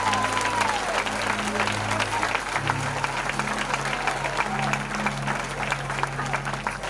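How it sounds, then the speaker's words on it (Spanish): Steady applause from a church congregation fills the space, with a low hum of voices or music underneath throughout. "Dale ese aplauso a Jesús."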